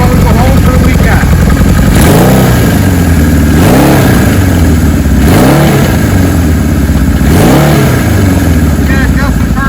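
A 1975 Kawasaki Z1 motorcycle engine runs loudly and close, with four distinct throttle blips rising and falling over a steady idle, roughly every one and a half to two seconds, with no talk.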